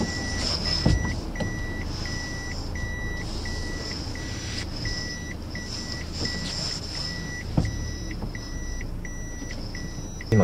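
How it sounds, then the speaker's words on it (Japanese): Toyota Noah GR minivan backing into a parking lot off a main road, its reversing beeper pulsing steadily and clearly over a constant low engine and road hum, with a couple of soft knocks. "大通りからバックで入れるということで"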